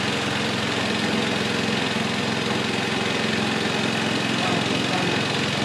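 A Honda UT3 engine runs spun up to about 2,000 RPM, giving a steady, unbroken mechanical drone that holds at an even level throughout.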